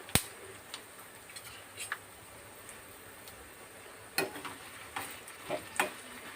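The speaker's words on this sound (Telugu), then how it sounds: "ఒక రెండు స్పూన్లు ధనియాలు ఒక స్పూను జీలకర్ర వేసి వేగిస్తున్నాను" Two spoonfuls of coriander seeds and a spoonful of cumin dry-roast in a pan, giving faint crackles, a few sharp ticks and stirring scrapes over a quiet hiss, alone and at close range.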